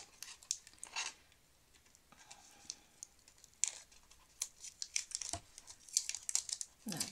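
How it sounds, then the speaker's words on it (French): Sticky tape being cut and pulled free, a few scattered crinkly snips and tearing rustles, close and quiet with short pauses between them and no talk. "ça va être plus simple si je coupe le scotch"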